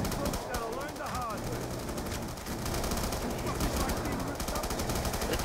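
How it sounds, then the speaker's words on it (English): Rapid bursts of Tommy gun fire in Black Ops 2 Zombies on the Mob of the Dead map, a dense, sustained automatic rattle from start to finish, loud and close, with other gameplay noise mixed in. "Tommy gun is so OP"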